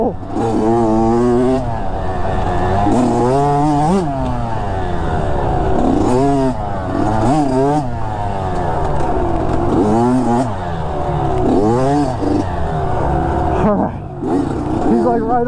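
A Kawasaki KX85 dirt bike engine revs up and down repeatedly on trails, its rising and falling whine loud and close throughout, with a rider's voice over it.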